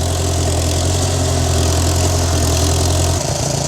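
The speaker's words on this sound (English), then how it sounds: "And as for this International 424 gas loader tractor, I do think it's getting closer to needing a rebuild." A gas-powered International 424 loader tractor, worn and nearing a rebuild, idles loud and close with a steady low rumble and a constant mechanical drone, its tone shifting slightly near the end.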